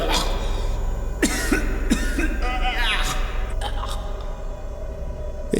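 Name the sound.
coughing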